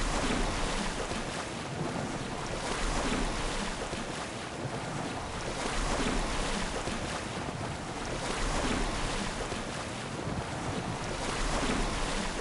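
Deep open water in the Assassin's Creed Odyssey video game, with waves surging and washing in slow swells under a steady rush of wind, loud and continuous with no talking.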